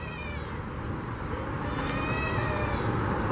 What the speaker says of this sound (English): The noise, though hard to identify, sounded eerily like a cat screaming